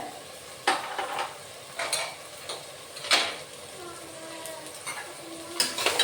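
Maggi rice with chopped tomato and red chili powder is stirred in a pan: irregular spoon scrapes and knocks against the metal at close range over a faint, steady sizzle, with no voices.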